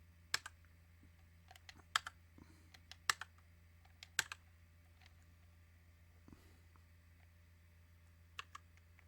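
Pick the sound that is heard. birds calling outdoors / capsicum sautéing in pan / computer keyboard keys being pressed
computer keyboard keys being pressed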